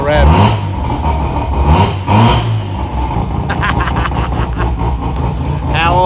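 A Mazda RX8 rotary engine fitted with an AEM methanol injection system revs up close and loud, climbing through a few throttle blips before settling back toward idle.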